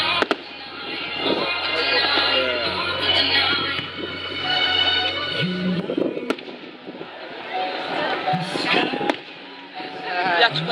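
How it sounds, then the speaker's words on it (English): Bonfire night fireworks at Filey: repeated bangs and crackling bursts at a distance, heard under nearby voices of children and adults talking. "Can you see fireworks?"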